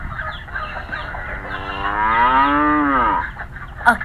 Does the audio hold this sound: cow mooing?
yes